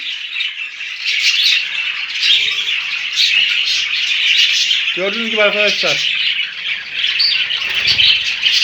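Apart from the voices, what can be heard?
budgerigars in a new aviary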